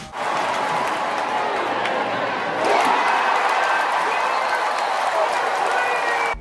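A basketball arena crowd roars and cheers steadily throughout a women's game against Nebraska, with a swell partway through and a busy wash of noise from start to finish.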